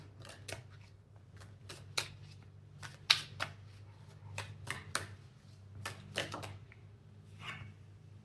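Tarot cards drawn and shuffled by hand during a pick-a-card reading, a scattered series of crisp, close snaps and flicks over a steady low hum, with no talking.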